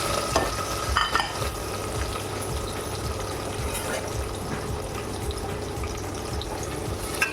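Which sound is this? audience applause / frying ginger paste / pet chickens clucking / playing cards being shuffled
frying ginger paste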